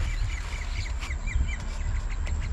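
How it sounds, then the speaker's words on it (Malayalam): Repeated harsh, quacking bird calls ring out over a steady low rumble of outdoor noise near the Anayirankal Dam suspension bridge in Munnar, several calls spaced across the moment. "അപ്പോൾ പക്ഷികളുടെയൊക്കെ ആരവം കേൾക്കാമെന്ന് തോന്നുന്നു."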